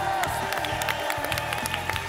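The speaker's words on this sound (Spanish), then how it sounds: "Un aplauso para esta campeona." Studio audience applauding and cheering at a blind audition of The Voice Chile, a steady wash of clapping with a few whoops, continuous for about two seconds under a sustained musical tone.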